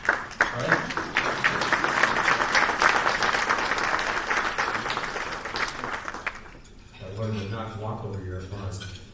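An audience at a State of the City event gives loud, sustained applause for an award recipient for about seven seconds, then a voice takes over as the clapping fades out.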